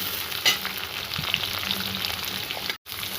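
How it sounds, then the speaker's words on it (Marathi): Capsicum sizzles and crackles in hot oil, a steady frying hiss with a few sharper pops and a short stir near the end. "आता ही शिमला मिरची टाकली फोडणीला"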